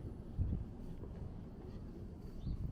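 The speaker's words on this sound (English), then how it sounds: "Yeah, it is cold and windy today." Low, cold wind buffets a microphone on a Brooklyn street in April with a steady rumble and occasional stronger gusts.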